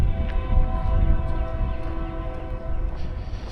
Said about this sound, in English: I know you guys hear a train